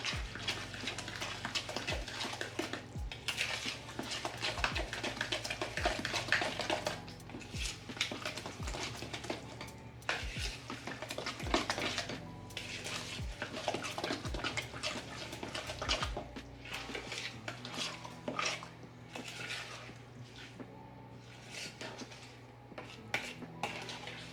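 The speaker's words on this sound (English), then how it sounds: "Mix this up and we should be good to go." A tamale pie mixture is stirred in a bowl, giving a steady run of scraping and clattering as the utensil knocks rhythmically against the sides, fairly close and continuous, with no talking.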